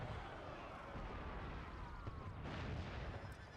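Cannon fire in Empire: Total War (Imperial Destroyer mod, Prussia campaign) comes through as faint, distant booming rumbles with a soft crackle over a few seconds.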